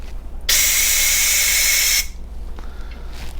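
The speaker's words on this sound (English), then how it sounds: "I'm gonna take my air compressor, close your ears" Compressed air from an air compressor blasting a Honda carburetor clean, one loud close hissing burst lasting about a second and a half, then quiet shop background.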